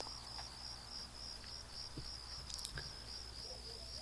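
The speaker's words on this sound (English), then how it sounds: "Just a bunch of cicadas." Cicadas buzz in a quiet outdoor scene in the video game Persona 4, a steady, faint high-pitched drone throughout with a few soft ticks and clicks.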